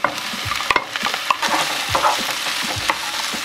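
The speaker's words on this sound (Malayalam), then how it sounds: "നമുക്ക് ഉള്ളി ഇട്ട് കൊടുക്കാം. നമുക്ക് ക്യാപ്സിക്കം ഇട്ട് കൊടുക്കാം." Onion and capsicum sizzle steadily in a hot pan for a cheese Maggi noodle snack, with close scraping stirs and clinks of a spatula over the frying.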